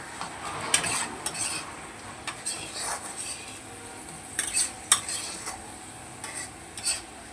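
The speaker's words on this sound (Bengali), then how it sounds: "এবার এগুলোকে ভালো করে নেড়ে নেব।" Fish, puti and bhola, stirred with cumin powder, salt and turmeric in a pan, with irregular scraping and clinking of a utensil against metal over a soft sizzle, close and moderately loud.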